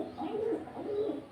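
A male racing pigeon of the kolongan type gives a low, soft, rolling coo in two swelling phrases, close by and fairly quiet, with no talk over it.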